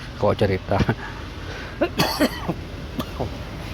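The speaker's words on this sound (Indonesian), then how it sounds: "Maklum batuk lagi" A few short, harsh coughs in quick bursts, close by, with a brief pause between clusters; no talking.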